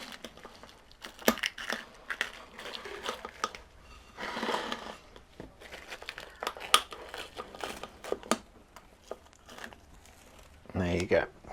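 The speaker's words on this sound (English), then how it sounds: "I just need to trim this cellophane off the bottom here." Cellophane crinkles and crackles in short irregular bursts as it is trimmed off the bottom of a terrarium container aboard a narrowboat, close and fairly quiet, with scissor snips and soft handling between.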